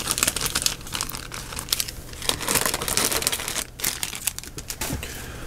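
Continuous crinkling of Pokémon booster pack wrappers being handled up close, loud crackly bursts with short pauses, no talking.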